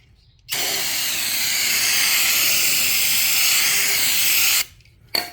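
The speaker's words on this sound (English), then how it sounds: "You just want to clean the rotor with some brake clean like this." Brake cleaner sprays from an aerosol can onto the rear rotor of a 2018–2023 Toyota Camry 2.5L, a loud, steady hiss lasting about four seconds before stopping abruptly, followed by a short second burst.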